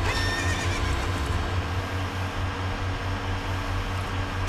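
A horse neighs and whinnies over a steady low hum in The Legend of Zelda: Ocarina of Time Master Quest, with faint hoof clip-clop mixed in and no talking.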